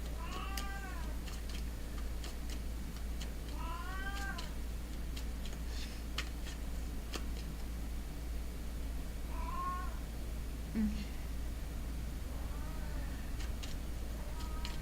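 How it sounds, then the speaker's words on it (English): A cat meows several times in drawn-out, rising-and-falling calls, spaced a few seconds apart over a steady low hum. "Oh, the kitty. Oh yes, she is very noisy."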